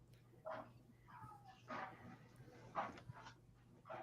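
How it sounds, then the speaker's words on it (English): Dog upstairs in a house, heard faintly and muffled through the floor, giving several short yips and barks spaced across a few seconds over a low steady hum. "my dog is going ape shit up there right now"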